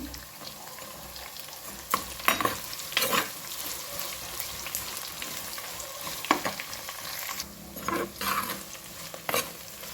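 Lengthwise-sliced onions hit a hot pan with peppercorns for a cabbage palya, producing a continuous soft sizzle broken by louder bursts of frying and stirring scrapes at irregular intervals, nearby, with no one speaking.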